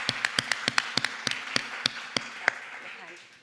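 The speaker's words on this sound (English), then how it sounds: "Round of applause for Jim, everyone." A small conference audience claps for a departing speaker at a devolution policy event, with a dozen or so distinct, fairly close claps in uneven rhythm that thin out and fade toward the end.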